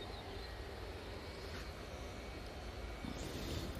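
An EasyJet airliner roaring steadily in the distance, a faint, even engine rumble with no breaks for a few seconds.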